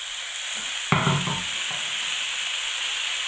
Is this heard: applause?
no